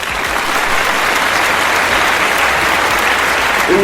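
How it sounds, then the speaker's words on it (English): Steady audience applause fills the room, dense and even from start to finish, with a slight swell at the very end and no talking over it. "This tale requires some applause."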